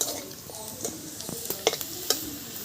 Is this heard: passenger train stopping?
no